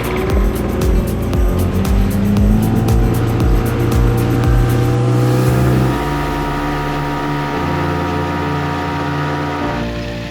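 A small rental car on Aruba, loaded with diving gear, drives along with a loud engine drone and shifting gear pitch, a rhythmic thumping early on that fades to a smoother hum, with no talking.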